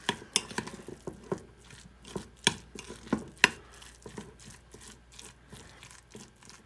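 Minced onion stirred into a keto pierogi filling, with soft scraping and irregular knocks of a utensil against a bowl, close and fairly quiet.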